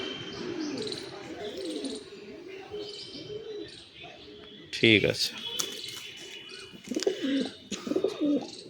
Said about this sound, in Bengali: পুরো হাই ফ্লাইংয়ের পায়রা।